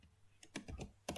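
Someone types a Linux shell command on a computer keyboard, a short run of quiet, close key clicks in an uneven rhythm with a sharper tap at the end.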